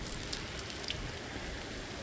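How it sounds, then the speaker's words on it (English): Steady, soft rain in the video game Project Zomboid patters continuously with a few faint drips standing out, no voices. "Of course, it is raining too."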